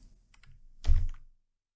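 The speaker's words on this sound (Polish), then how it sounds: "I teraz ponownie klikam Ctrl J." Ctrl+J pressed on a computer keyboard in a quiet room: a couple of faint key taps, then a louder, fuller clatter of keystrokes lasting about half a second, with no talking.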